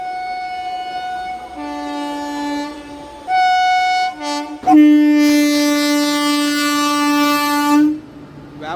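The Seshadri Express near Samalkot junction sounds its horn in long, loud, steady blasts, shifting pitch between notes, with a sharp burst midway and a train rumble underneath.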